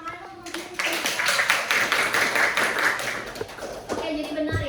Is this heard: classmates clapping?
yes